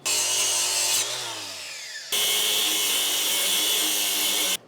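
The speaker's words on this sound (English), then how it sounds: "We've got to grind this off anyway, so it's not abrading that hose." An angle grinder cuts at a crimp fitting on a metal plate of an FF Industrial FF18R mini excavator, a loud, close, high whine that drops and winds down partway, then comes back at full speed and cuts off abruptly.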